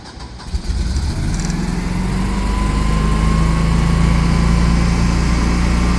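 A Champion dual fuel generator idles in a loud, steady engine drone right after starting, with a constant hum and a faint whine rising above it that never lets up.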